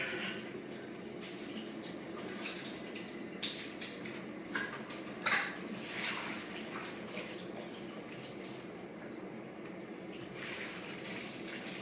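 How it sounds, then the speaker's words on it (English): Water runs steadily from a tap, a constant hissing splash with a few small clinks of dishes, no voices. "I just had to turn the cold water on just to cool down"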